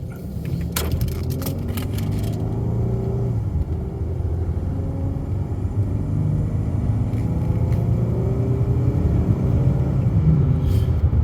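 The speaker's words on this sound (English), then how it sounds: "So as you can hear, it runs right out. The engine's really smooth." A 2013 Dodge Charger Pursuit engine idling steadily with a low, even rumble, a few light clicks near the start, no talking.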